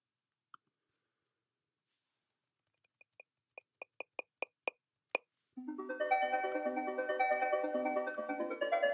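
A sequence of sharp synthetic blips speeds up and grows louder, then bursts into a dense, steady electronic music track with layered tones.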